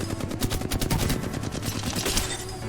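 Rapid automatic gunfire rattles almost without a break in Apex Legends as the shooter keeps the trigger held through a mid-magazine weapon switch, loud and close throughout.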